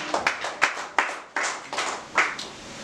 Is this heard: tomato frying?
no